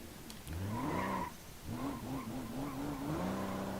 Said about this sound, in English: This thing can even power slide, which is nice.